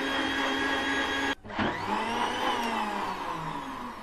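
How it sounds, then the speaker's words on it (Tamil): A mixer grinder blends coconut milk with cardamom and sugar in a loud, steady motor whine. It cuts out briefly, then spins back up and keeps running at a constant level close by. "இப்போ மிக்சியில் போட்டு நல்லா நைஸாக அரைக்கணும்"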